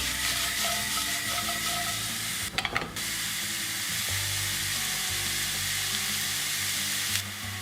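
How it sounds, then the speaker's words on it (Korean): Mushrooms stir-fried quickly in a hot pan for a French omelette, a loud steady sizzle with scraping stirs and a short clattering burst partway through, close up. "일단 저는 버섯을 넣을 거기 때문에 버섯을 일단 재빠르게 볶을게요"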